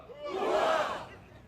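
Crowd at a Vietnam Moving Wall ceremony in Yazoo City, Mississippi shouting a single short collective hooah, swelling and fading within about a second.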